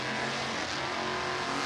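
A supercharged Chevrolet Nova drag racing down the strip, a brief dense engine roar with harsh broadband noise, loud and continuous for under two seconds.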